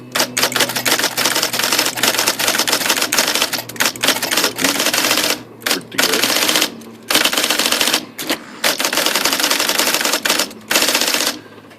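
An IBM Selectric typewriter with a freshly unjammed keyboard and carrier rattles in loud, dense mechanical bursts of rapid clattering, broken by a few brief pauses, with no talking.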